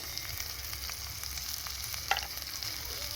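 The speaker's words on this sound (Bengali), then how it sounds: "মশলাটা ভালো করে কষিয়ে নেব" A masala of salt, turmeric and chili powder fries in a pan, a quiet, steady sizzle with light scattered crackles and one brief clink.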